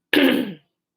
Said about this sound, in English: I just feel like I gotta clear my throat.